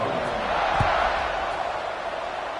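A stadium crowd in the College Football 26 video game, at a Notre Dame vs Iowa match, keeps up a loud, steady roar of cheering that fills the whole stretch with no break.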